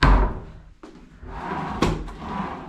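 Wooden drawers in a Las Vegas Aria hotel room slide open and shut, with a few knocking thumps and a sharp closing clack, close by and without talk.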